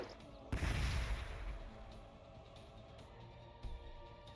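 Crack grenades exploding in Warhammer 40,000: Gladius: a sudden loud boom with a broad crackling burst that decays over a second or so, followed by a low rumbling tail and a smaller second thump near the end.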